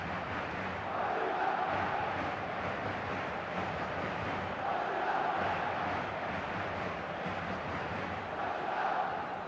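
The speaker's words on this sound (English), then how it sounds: "Now the crowd are demanding that they just finish this off." Stadium crowd in the football video game eFootball during Madrid vs Marseille, a steady distant roar of massed voices that swells and eases in broad waves, with no talk over it.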